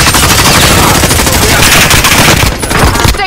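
Dense rapid automatic gunfire in a Warzone battle, loud and continuous for about three seconds with overlapping shots and a brief dip near the end.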